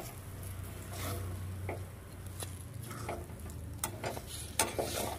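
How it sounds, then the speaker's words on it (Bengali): Ground lentil paste for Bengali dhoka is stirred and fried in a pan, giving a faint, low sizzle with intermittent scraping and tapping of the spoon against the pan. "সমানে নেড়ে নেড়ে ডালটাকে কষিয়ে তৈরি করে নেব ধোকা"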